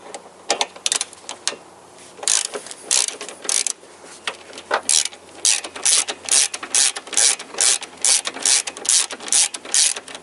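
Rapid ratchet clicking in repeated bursts as a socket wrench loosens an engine mount bolt on a 2000–2007 Toyota Corolla VVT-i, close and crisp with short pauses between strokes.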